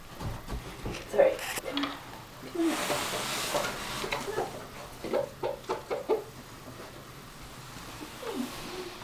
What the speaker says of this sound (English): Yeah, beautiful rooster.